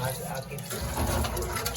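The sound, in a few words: filling water for tea from a tap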